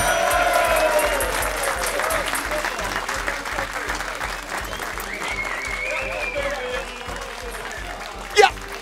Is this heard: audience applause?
yes